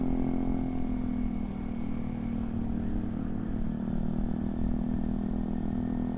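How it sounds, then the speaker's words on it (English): A scooter fitted with a whole jet ski setup rides along a Miami street, its engine giving a steady buzzing drone at close range with no talk over it. "This is a scooter with a whole jet ski setup on it."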